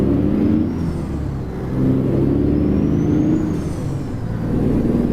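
Heavy truck engine from American Truck Simulator with an 18-speed transmission, a loud steady low diesel drone that rises and falls slightly throughout, with no talk.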